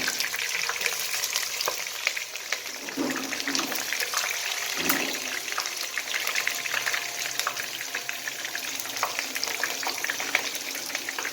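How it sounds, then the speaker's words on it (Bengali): Sliced onions and garlic frying in a pan with crushed cinnamon, cardamom and cloves, a steady close sizzle with faint stirring scrapes throughout. "এর মধ্যে আমি পেঁয়াজ ফালি করা আর রসুন দিয়ে দেবো"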